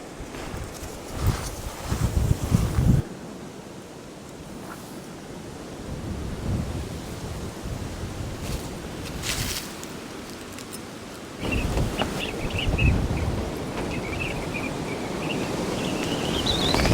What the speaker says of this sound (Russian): Даже от того момента, как мы пришли, ветер усилился